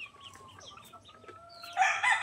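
Two-month-old chickens cluck and chatter nearby in short bursts, building to a louder, busier squawk at the end.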